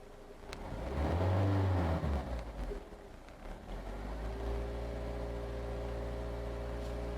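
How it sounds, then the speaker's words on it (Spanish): A Toyota engine revs sharply as the throttle opens, its tone climbing then falling back before settling into a steady idle hum, close and loud with no talking. "aquí voy a acelerar, voy a dar una acelerada"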